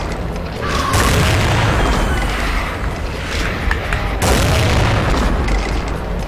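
Heavy rocket launcher blasts in a first-person shooter, with two deep booms, each followed by a long rumbling roar that fills the whole stretch at high volume.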